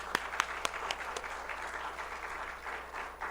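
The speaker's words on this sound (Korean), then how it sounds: "우리 하나님께 영광의 박수 한번 올려드리겠습니다" Soft applause from a church congregation during a Sunday worship service, a few distinct claps at the start and then a low, steady patter of hands heard from some distance.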